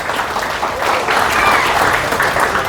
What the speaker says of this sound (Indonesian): Tepuk tangan untuk Pontianak Utara.